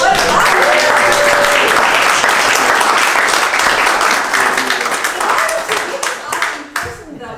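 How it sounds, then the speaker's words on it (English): Loud, close audience applause for a man on his birthday at a gathering. The dense clapping runs strongly for about six seconds, then thins out and fades as a voice comes back in. "give him a round of applause"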